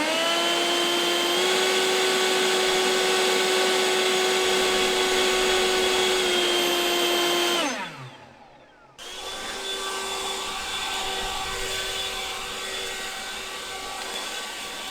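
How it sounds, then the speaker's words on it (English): An Enhulk 930 cordless battery leaf blower runs at close range with a loud, steady high-pitched whine and rushing air, then cuts out sharply and spins back up to a slightly different pitch. "So I'm going to start off just showing the blower do some basic tasks that you would want to do around the house"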